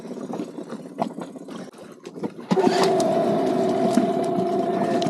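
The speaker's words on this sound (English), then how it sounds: "We're gonna start the new outboard for the first time." A new boat outboard motor, started for the first time, catches and settles into a steady, loud idling hum after some quieter fiddling sounds.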